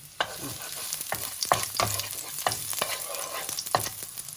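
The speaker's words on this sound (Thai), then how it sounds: "ผัดกระเทียมให้หอม แล้วก็ใส่ข้าวลงไป" Garlic stir-frying in vegetable oil in a pan for fried rice: a steady sizzle broken by repeated scraping spatula strokes, close and moderately loud, with no talking.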